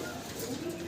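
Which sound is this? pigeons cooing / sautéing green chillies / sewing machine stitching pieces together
pigeons cooing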